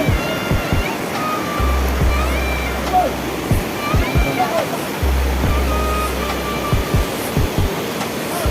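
Water rushes and splashes steadily over rocks in West Karbi Anglong, a constant close roar, with people talking intermittently over it.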